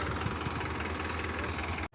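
A tractor pulling a rotavator through a paddy field strewn with rice straw. Its engine drones steadily and loud with a low, rumbling throb that runs without a break until it cuts off abruptly at the very end.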